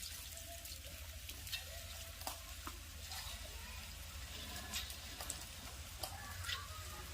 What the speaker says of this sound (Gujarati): સરસ મજાના મકાઈના ભજીયા ફ્રાય થઈ રહ્યા છે